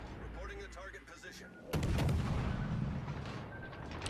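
Naval guns firing in the World of Warships game, a sudden heavy boom with rumbling roll-off after a quieter stretch of game ambience and faint tones.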